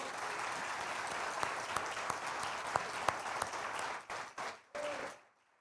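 Church congregation applauding during a sermon, a sustained dense patter of many hands that breaks into a few uneven bursts near the end before stopping, then fading into quiet; no speech over it.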